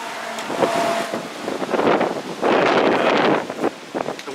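Ferocious wind blowing outdoors beside a garage, gusting loudly and continuously into the microphone with roaring, buffeting surges and faint rustling, and no voices.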